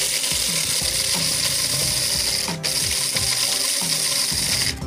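Roasted coffee beans are ground by hand, a close repetitive ratcheting crunch in a steady rhythm over a continuous background hiss.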